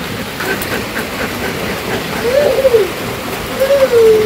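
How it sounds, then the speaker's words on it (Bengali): Rain falls steadily over a village, a continuous close hiss that swells slightly in the second half, with a few faint tonal calls drifting through the background. "এই যে বৃষ্টি শুরু হয়ে গেছে"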